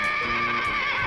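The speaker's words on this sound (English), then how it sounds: "It was their friend, the horse," A horse from a VCR board game neighs in a loud, drawn-out whinny that fills the moment, with a faint clip-clop of hooves underneath and no voices.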